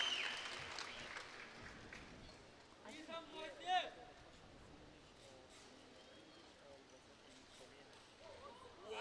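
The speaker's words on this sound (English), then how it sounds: "the home crowd cheering for Lee Sangsu in this crucial moment" A home crowd at a 2018 Korea Open table tennis quarterfinal cheers and claps in a distant, diffuse murmur with a short rise in the middle, steady under a commentator's voice.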